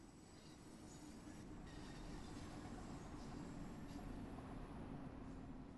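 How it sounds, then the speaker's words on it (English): A train in the video game Train Sim World gives a quiet, steady mechanical rumble and hum with faint rail noise, unbroken throughout. "This train is ready to go."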